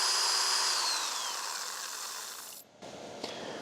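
Power drill whirring steadily while drawing current from an Alpha ESS AP1000 portable power station, motor pitch sliding downward before it cuts out abruptly, then a brief restart burst; loud and close, no talking.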